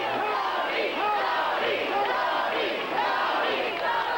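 A large crowd of baseball fans cheers and shouts continuously in a stadium, many voices blending into a steady roar with rising whoops, heard at a distance.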